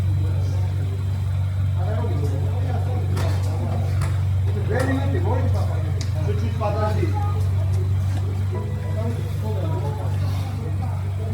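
A BMW 540 engine runs with a steady low idling hum, close and constant throughout, while people talk over it.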